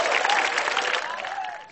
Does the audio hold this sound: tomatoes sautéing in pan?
no